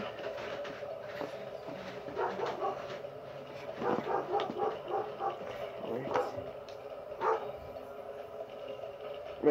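Several dogs bark and yip in quick bursts, some whimpering between, heard in a game scene over steady background noise, with speech tagged nearby.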